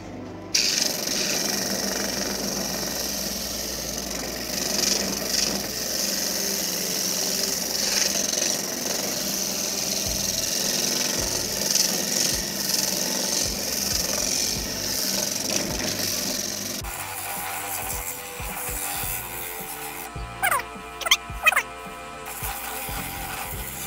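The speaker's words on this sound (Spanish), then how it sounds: "vamos a pulir con nuestra máquina hecha con motor de lavadora, siempre reciclando" A homemade polishing machine built from a washing machine motor works on pallet wood for a billiard cue stand, giving a steady loud rubbing whir for most of the run before the tone shifts and a few sharp scrapes close it.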